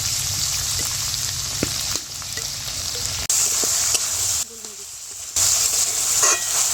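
Chicken mince with soy sauce fries in a pan for patty filling, a loud continuous sizzle with light, scattered stirring scrapes and a few abrupt shifts in level.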